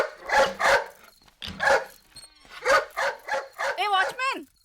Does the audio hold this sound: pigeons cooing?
no